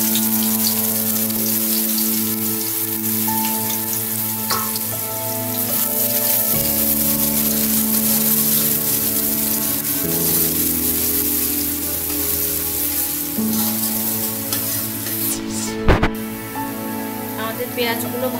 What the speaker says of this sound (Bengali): আমাদের পেঁয়াজগুলো ভাজা ভাজা হয়ে গেছে।